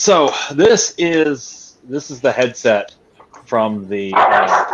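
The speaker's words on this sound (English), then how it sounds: "Pardon my dog; he's barking at something." A pet dog barks in a home room during a tech talk about a headset, its barks mixed in with and under continuous close speech from someone talking.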